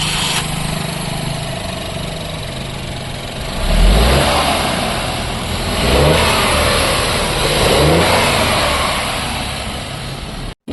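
Maruti Suzuki Brezza VXi 1.0 turbo engine, 109 bhp, revving from a steady idle in a few rising and falling bursts, heard up close and loud, with no one speaking.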